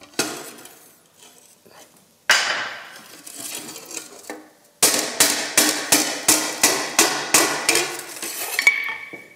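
A smith hammers hot iron to forge an iron pan, sharp metallic blows ringing out, first a few scattered strikes, then a fast, steady series of about ten loud, close hits.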